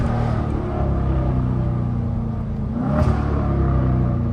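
A catless 392 V8 in a Dodge Challenger Scat Pack revs up with a loud, continuous deep rumble that swells under acceleration, close and raw, with no talking over it.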